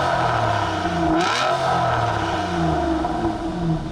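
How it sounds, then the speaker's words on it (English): A 2012 Aston Martin Virage's 6-liter naturally aspirated V12 revs up and settles, a strong, close, continuous engine note rising and falling in pitch with no talking. "the other big benefit of a 6-liter naturally aspirated V12, it sounds pretty good"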